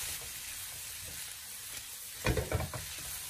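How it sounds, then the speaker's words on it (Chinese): Chili peppers and sliced pork stir-fried over high heat in a wok, a steady low sizzle that flares into a burst of louder scraping and crackling tosses near the end. "将煸炒过的辣椒重新的回锅，然后立刻的开大火，将它快速的翻炒均匀，将它爆炒一下"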